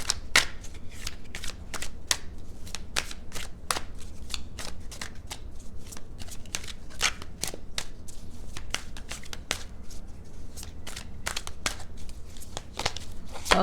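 Tarot cards being shuffled by hand for a single-card pull, a close, continuous run of crisp riffling slaps at a quick, uneven rhythm with no talking.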